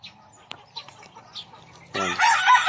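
A gamefowl rooster at a breeding farm in General Santos City gives one loud, close crow near the end, after quiet moments with faint background birds.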